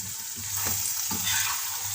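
Aloe vera sabzi with amchur powder stirred and frying in a pan: steady broadband sizzle with a few soft spoon scrapes, close and continuous, no voices.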